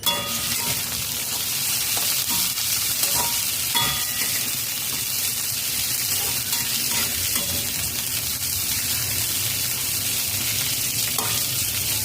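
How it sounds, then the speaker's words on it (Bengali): Onion, cashew nuts and melon seeds fry gently in a pan over a low-medium flame, giving a steady soft sizzle with occasional stirring scrapes throughout, with no talking. "লো টু মিডিয়াম ফ্লেমে হালকা করে ভেজে নেব"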